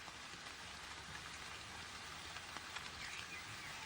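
Steady rain pattering through a Russian forest where Asiatic black bears feed, a continuous soft hiss of drops with no voices.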